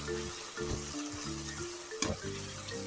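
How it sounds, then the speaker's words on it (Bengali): Tomato paste fries with spices in a pan for an eggplant dopiaza. A soft, steady sizzle carries throughout, broken by a brief clatter midway. "ভালো করে মশলার সঙ্গে টমেটো পেস্টটা আমি একটু কষিয়ে নেব"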